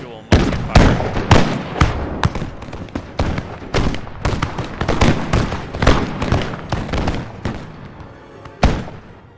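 Musket volleys ring out in a Total War: Empire battle, with a dense, uneven run of loud sharp cracks and booms over several seconds, some shots overlapping in quick clusters.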